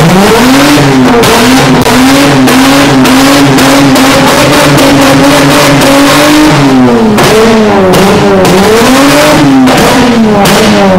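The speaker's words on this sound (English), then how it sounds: "Basically sounds like a V8, listen to this!" A Commodore V8 engine fitted with a ghost cam rumbles loudly and close with a choppy, lopey idle and repeated revs, rising and falling in pitch and shooting flames, with no talking.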